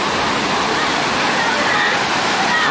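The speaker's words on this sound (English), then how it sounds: "The absolute beauty and raw power of the Dunn's River Falls." Dunn's River Falls roars in a steady, loud, unbroken rush of cascading water, filling the whole clip with dense broadband spray noise.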